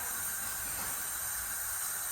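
A steady, bright sizzle of mustard seeds frying in hot oil, even and close, with no voices.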